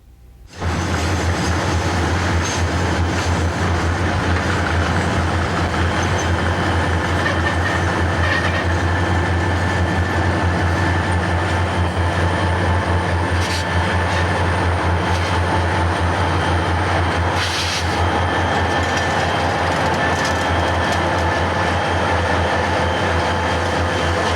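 A Detroit, Toledo and Ironton freight train led by engine 6410 rolls past near Minford, Ohio, a loud, steady roar of diesel engines and rail noise that holds at close range for the whole stretch, with faint clatter from the wheels.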